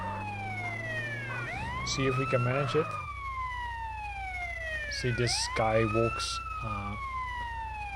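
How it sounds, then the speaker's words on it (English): Police sirens wail in GTA The Definitive Edition, two rising-and-falling sweeps passing close and loud, with someone talking over them and a busy traffic rumble underneath. "Yeah, you hear the sirens, then you need to go away, right?"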